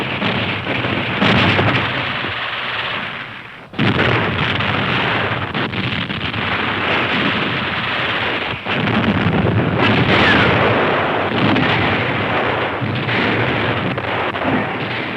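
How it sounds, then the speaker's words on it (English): Heavy WWII artillery in archive battle footage near Moscow booms as a loud, sustained rumbling roar, with a sharp cut near four seconds and another surge around nine, thick and continuous like rolling thunder. "battles for roads and villages with the crash of artillery"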